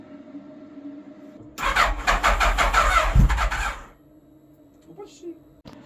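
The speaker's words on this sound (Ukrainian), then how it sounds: "скільки цей двигун треба буде крутити, поки він запуститься перший раз після такої величезної паузи" A Suzuki Hayabusa motorcycle engine cranks after winter storage with a rapid rhythmic churning for about two seconds, fairly close, then stops without catching, leaving a low hum.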